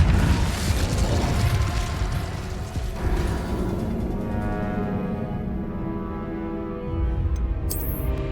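Fiery spell blasts from Hogwarts Legacy, a Confringo fire explosion and Incendio flames, roar loud and continuous with rumbling bursts and crackling mechanical clatter, easing toward the end before a sharp high hiss.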